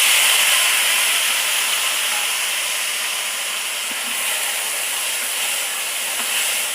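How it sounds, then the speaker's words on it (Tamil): Tomatoes hit a hot pan of masala and set off a loud, steady, broadband sizzle that holds evenly with no talk over it. "நான் தக்காளியை போட்டுக்கிறேன்."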